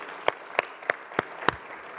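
Slow, widely spaced claps ring out at a signing ceremony, five sharp separate hand claps at an even pace, moderately loud against a quiet room with no talking.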